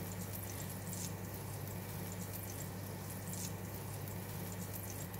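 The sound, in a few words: butter melting in a hot pan, pushed with spatula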